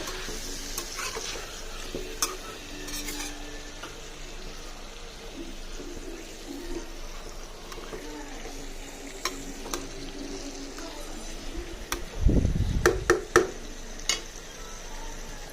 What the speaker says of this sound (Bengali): চিকেনটা দেওয়ার পরে কিন্তু আমি খুব ভালোভাবে এটা ফোকাস করে চিকেনটা কষে নেব